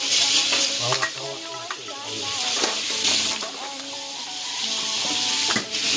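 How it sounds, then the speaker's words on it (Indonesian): Shrimp frying in hot oil at a seaside fish market kitchen, giving a steady, loud sizzle with crackling spits and occasional stirring scrapes throughout. "Itu dia lagi goreng udang"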